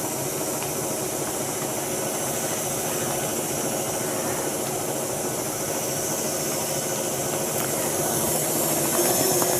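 Stand mixer beating pound cake batter: a continuous loud motor whir with a dense hiss, close and steady throughout and growing slightly louder toward the end, with no voices.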